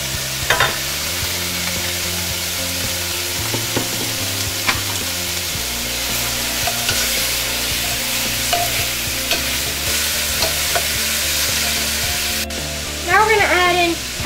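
Hot sausage and ham brown in a pan with a loud, continuous sizzle, broken by scraping and stirring; a short squeal of voice comes near the end.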